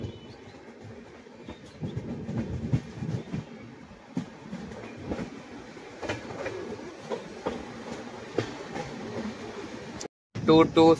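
An AC double decker train from Chennai to Bangalore, number 22625, runs with a steady rumble and faint rhythmic wheel clatter heard from inside a carriage, with voices talking over it.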